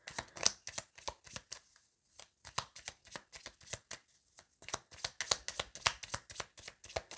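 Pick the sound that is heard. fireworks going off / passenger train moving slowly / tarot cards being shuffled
tarot cards being shuffled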